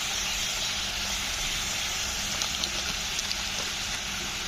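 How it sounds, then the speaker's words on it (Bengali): Pumpkin pieces fry in oil with salt and turmeric, giving a continuous loud hiss and sizzle with scattered small crackles and pops toward the end. "কুমড়োগুলো কিন্তু তেল যে দিলাম তেলের মধ্যে কিন্তু ভালো করে ভাজতে হবে।"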